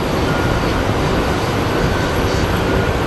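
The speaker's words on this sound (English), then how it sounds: "And there's a baby Embraer" An Embraer jet at Sky Harbor International Airport, a continuous even broadband engine roar with no talk.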